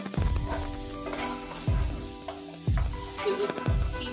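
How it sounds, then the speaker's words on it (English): Corn sizzles as it grills and browns, a close steady fry punctuated by several rhythmic scraping or stirring strokes at regular intervals, with no voices. "I'm just gonna turn my attention to the corn, and as you can see, it's browning really well"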